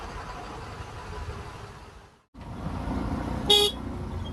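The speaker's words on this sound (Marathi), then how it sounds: "फुल ट्रॅफिक." A jammed stretch of the Mumbai–Nashik highway gives a low, steady rumble of idling traffic that cuts out briefly, then returns with one short, bright car-horn toot close by.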